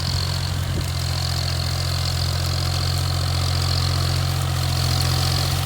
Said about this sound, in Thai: ดูเขาทำงานครับ ไถออกมาได้สวยเลยนะครับ